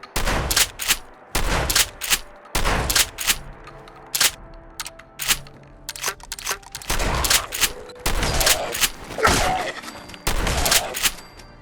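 A modded weapon in Fallout 4 fires in about nine loud, sharp volleys of gunshots, separated by short pauses filled with quieter mechanical clicks and clacks of reloading.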